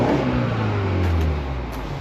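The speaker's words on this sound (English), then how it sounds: "give it a rev, listen to the exhaust system, listen for any leaks." A used car's engine is revved while idling, giving a steady low rumble through the exhaust that swells slightly and then eases off over about two seconds, close and loud with no talk.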